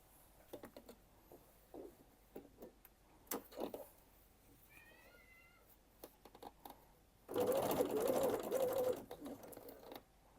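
A sewing machine basting the zip seam of a luxury bag runs in one loud, steady burst of stitching lasting about two seconds, after sparse handling clicks and a brief faint chirping sound in a quiet room.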